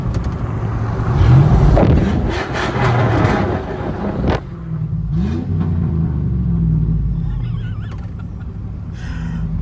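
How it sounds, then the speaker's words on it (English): A 1980 Chevrolet Bel Air wagon with straight exhaust pipes rumbles loudly nearby, its engine revving in bursts before settling into a steady, throaty idle, with some wind noise across the microphone. "We now have straight pipes on the old Chevy. Actually sounds pretty good."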